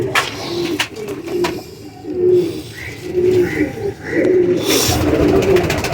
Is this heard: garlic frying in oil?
no